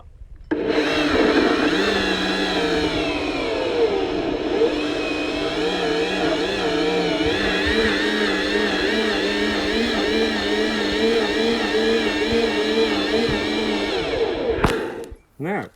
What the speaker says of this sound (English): We're going to blend this now.